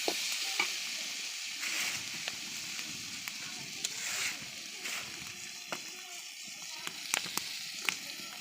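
Onions and garlic sizzle in a small amount of oil in a pan before greens are added, a continuous close frying hiss broken by scraping stirs and small pops.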